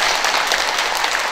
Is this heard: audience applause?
yes